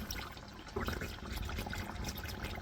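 Engine oil from a 2016 Ram 1500 with a 5.7L engine drains into a pan with a soft, continuous trickling and splashing of liquid, close and fairly quiet.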